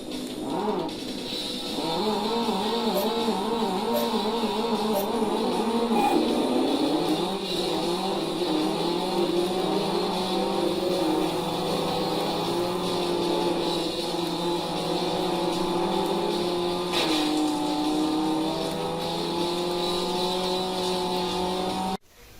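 A car racing video game plays its engine sound, a steady, loud synthetic drone with rising and falling revs over about twenty seconds, alone without voices.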